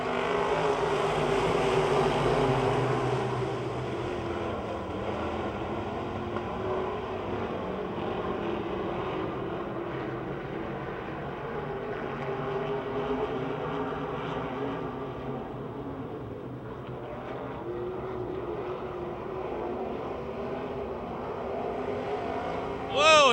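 Race cars roar around the Pennsylvania Motor Speedway oval near Pittsburgh, a steady blended engine drone from the pack that swells and fades slightly as cars pass, with a commentator's voice running over the top.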